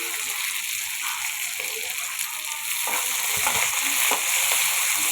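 Fenugreek leaves fry in an oiled pan for an ivy gourd fry, giving a close, hissing sizzle that swells as they are stirred.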